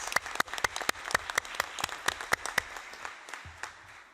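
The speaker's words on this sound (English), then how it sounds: "I want an applause for her, please" A small group claps at a UN-Habitat Assembly closing ceremony, sharp individual claps in a quick irregular burst that thins out and fades after a few seconds.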